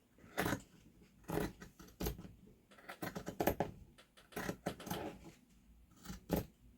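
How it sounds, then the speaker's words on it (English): Scissors snip through fabric in repeated close, crisp cuts, an irregular series of short crunching strokes with quiet pauses between. "grab your scissors and just start cutting it out"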